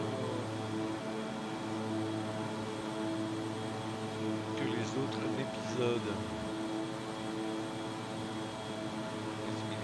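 Steady drone of an airplane in flight over the Andes, a continuous low hum with whining tones, heard from inside while people talk over it.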